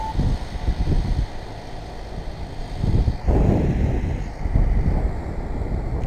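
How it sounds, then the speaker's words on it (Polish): Gusty cold wind buffets the microphone in low, rumbling bursts at a silage harvest, swelling loud around the middle and staying rough and close throughout, with no voices. "Ale zimny wiatr się zerwał."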